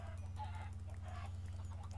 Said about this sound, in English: Chickens everywhere.